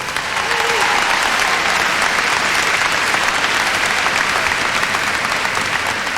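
A large audience applauds at a hula competition, with dense, loud, continuous clapping that fills the space evenly from start to finish.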